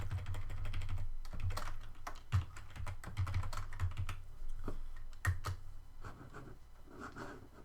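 Rapid, uneven keystrokes on a computer keyboard, clicking close and clear in bursts with short pauses, alone without any voices.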